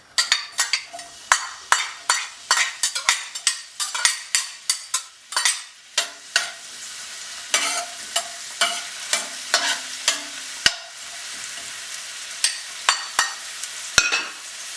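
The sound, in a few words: onions sizzling in frying oil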